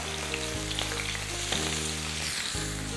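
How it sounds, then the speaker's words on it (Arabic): Sausage fries in ghee in a pan, a steady dense sizzle heard close up throughout, with a constant low hum beneath it and no talking. "بص كده صباع السجق، اسمع الطشطشه"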